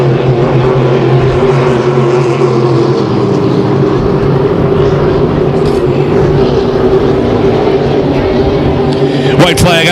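Race boat engines roaring past on the water, a loud sustained droning howl with steady tonal harmonics, one boat's engine sounding rough, under a commentator's voice.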